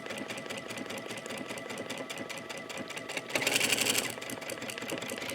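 A sewing machine stitches a buttonhole at steady speed, its fast rhythmic needle clatter continuous and close, briefly louder and quicker for about a second partway through before settling back.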